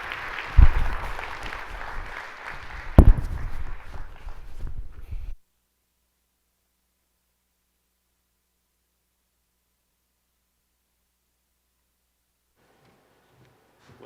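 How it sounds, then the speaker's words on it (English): An audience at a hospitality summit applauds after a keynote speech, a burst of clapping lasting about five seconds with a couple of sharp louder claps, then cutting off abruptly into silence. "Please join me in giving him another round of applause"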